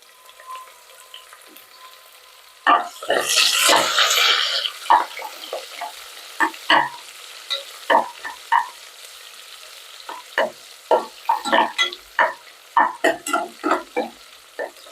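Chopped small and large onions sautéed with dried chillies for a Kongu-style rice and lentil dish: a burst of hissing sizzle when added, then a string of sharp, close stirring scrapes and knocks against the pan.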